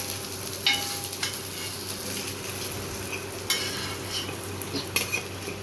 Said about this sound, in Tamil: மீன் ரெடியாக ஆகிட்டாங்க நல்லா பொரிச்சு வந்துச்சு எடுக்கலாம்